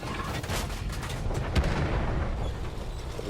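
A tank cannon shot in World of Tanks, featuring the Pz T25, lands as a sharp boom around the middle of a steady rumble of battle noise, with dense low-end clatter throughout.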